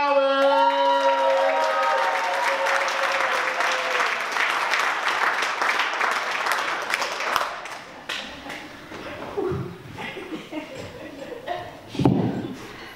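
A comedy bootcamp graduation show audience bursts into loud, sustained applause and cheering for comedian Brian McGowan, a dense wash of clapping that fades after several seconds into scattered claps and a few voices.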